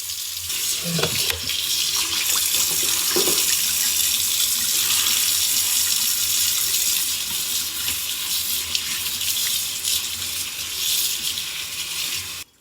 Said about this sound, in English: So we're gonna rinse it with cold water.